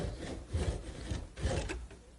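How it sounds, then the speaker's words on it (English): A fine-toothed razor saw rasps through hard wood in short back-and-forth strokes, close by, with a few rhythmic pulls. "I'll use a razor saw to part the top all the way down"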